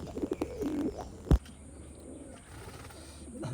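A prized fancy pigeon coos in low, soft, rolling phrases, close by, with no one talking.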